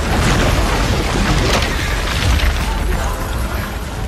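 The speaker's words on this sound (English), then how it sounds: "Remember the awesome dynamite explosion of the mansion?" Dynamite blows up a mansion in the film Django, a loud, dense, roaring blast that rumbles and crackles steadily for several seconds with no letup.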